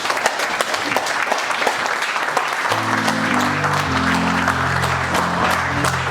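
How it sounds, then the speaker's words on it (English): An audience at a community healing session bursts into sustained applause with scattered claps, while a music track with a deep rap beat fades in partway beneath the clapping. "can we please have a round of applause?"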